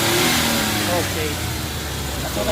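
A Suzuki K6A engine in a minivan idles with a low, steady rumble and strong vibration, a close continuous hum with slight unsteady pulsing.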